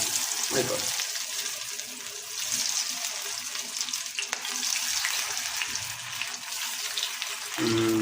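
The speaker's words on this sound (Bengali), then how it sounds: "এই তো ভাজা হচ্ছে, দেখতে থাকেন।" Marinated fish, lotte (Bombay duck), frying in hot oil, a steady dense sizzle that fills the whole stretch with faint clatter over it and no voices.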